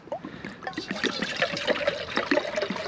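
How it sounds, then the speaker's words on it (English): Water is poured into a metal coffee tin for boiling over a homemade alcohol stove, producing a splashing, gurgling trickle with uneven bursts for about three seconds, close and clear with no talking. "pour some water in there."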